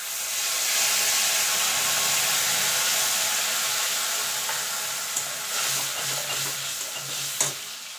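Cumin seeds frying in oil in a pan, a loud steady hiss and sizzle close by that gradually eases, with a few sharp clicks of stirring toward the end and no talking.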